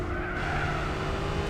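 Race car engine running hard at Twin Ring Motegi in Gran Turismo 4, a steady loud drone with sustained tire-squeal-like whine throughout, no pause, alone without voices.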